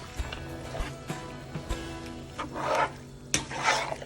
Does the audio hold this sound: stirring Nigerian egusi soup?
yes